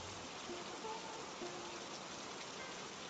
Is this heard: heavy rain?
yes